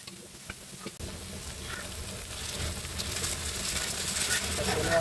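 Tomatoes and salt sizzle and fry in a hot wok with oil, garlic paste and ginger paste, while a spatula stirs and scrapes steadily throughout, the frying noise building louder toward the end.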